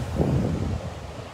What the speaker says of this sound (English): hoping that the sound of the waves isn't too loud and you can hear me